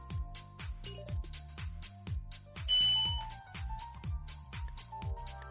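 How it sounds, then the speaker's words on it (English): A 3D printer being repaired after a short-circuited power switch gives off a few clear electronic beeps over a steady rhythmic mechanical ticking, close and moderately loud with no talking. "I don't know why it beeped at me."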